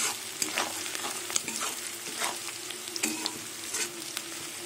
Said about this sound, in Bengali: রসুনের কাঁচা গন্ধটা চলে যাওয়া অবধি আমি একটু পেঁয়াজ দিয়ে রসুনটা কষিয়ে নেব